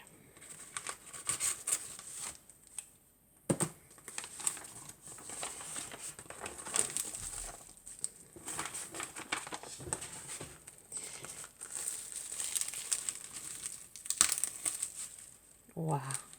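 Paper wrapping crinkles and rustles in small, irregular bursts as it is carefully unwrapped to keep it intact, fairly quiet and close, with occasional sharper crackles and no talk over it.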